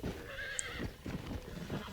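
A horse neighs and whinnies while being broken in Red Dead Redemption, with hooves clip-clopping and stamping in an uneven rhythm, close and moderately loud.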